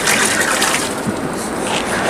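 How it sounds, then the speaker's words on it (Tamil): Water gushes steadily into a cooking pot for a 3 kg turkey biryani, a loud continuous pour close by throughout the brief moment. "தண்ணி ஊற்றிட்டு மூடி வச்சுக்கலாம்."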